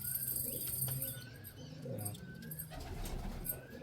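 Andhra pigeons let loose from the hand, their soft cooing and a flurry of wingbeats rising over a steady background hum and rustle, the cooing recurring in short bursts close by.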